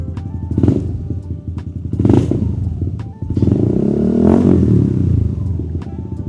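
Yamaha Aerox 155 turbo scooter with a custom aftermarket exhaust idling and revving up close, throaty bursts swelling and dropping with light rattling clatter in between.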